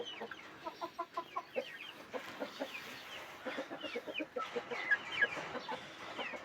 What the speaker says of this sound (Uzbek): Xo'roz bilan 4 ta katta tovuq bor.